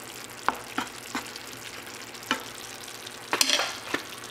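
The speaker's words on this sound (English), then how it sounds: "all I'm doing is trying to boil the meat to make sure it's cooked all the way through" Beef simmering in sauce in a pan for a stir fry, soft steady bubbling broken by several short scraping stirs, close and fairly quiet with no talking.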